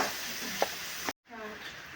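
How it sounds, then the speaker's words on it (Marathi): Onions fry in a pan for a spicy dry drumstick vegetable dish, a soft steady sizzle with a couple of brief stirring scrapes, broken by a short moment of silence before the sizzle resumes, close and moderately quiet. "कांद्याला चांगला आपल्याला लाल होईपर्यंत चांगला परतून घ्यायचा"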